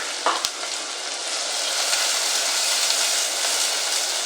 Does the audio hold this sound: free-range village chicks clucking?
no